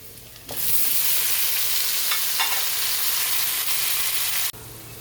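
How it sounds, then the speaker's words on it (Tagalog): Shrimp hit a hot pan with garlic and burst into a loud, steady sizzle that holds evenly for several seconds, then cuts off abruptly, with no talking over it. "Lagay na natin yung ating shrimp"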